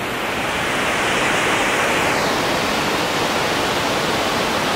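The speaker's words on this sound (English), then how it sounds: "We made it to the waterfall." Hidden Falls pours down in a loud, steady rush of water, a dense unbroken roar heard close up with no voices.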